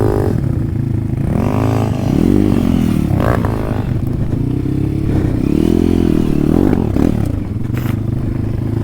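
A KTM RXF dirt bike rides an enduro trail, its engine revving loud and close, rising and falling in repeated surges with clatter from the bike over rough, slippery ground.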